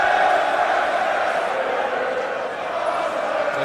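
Wrestling arena crowd in England roaring steadily in support of Will Ospreay during his match against Rey Mysterio, a loud sustained wall of voices with chanting and shouts and no pauses.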